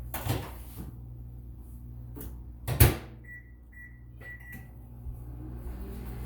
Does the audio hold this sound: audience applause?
no